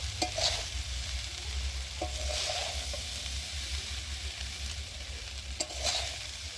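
Fried rice being stirred in a hot pan, a steady sizzle and scraping under a low hum, with a few sharp clinks of the spatula against the metal.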